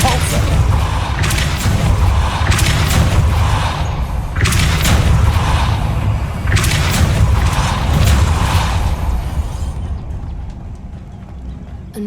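Depulso spell effects in the video game Hogwarts Legacy, a series of deep booming thuds repeating every couple of seconds over a dense, rumbling game background, with a faint voice present.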